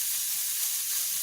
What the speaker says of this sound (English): put a little bit of butter inside of it